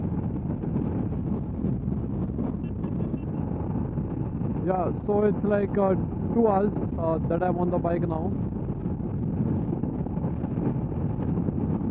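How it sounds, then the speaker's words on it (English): Heavy wind buffets the microphone with a constant low roar while someone talks briefly in the middle. "It's very windy today."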